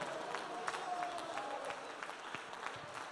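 A church congregation claps during an evangelical worship service, the applause steady but faint and distant, with a high sustained tone and murmuring voices faintly mixed in.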